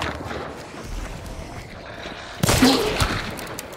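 Gunfire in the video game Hunt: Showdown, with a sharp shot cracking out near the end over a low background rumble, heard during a match.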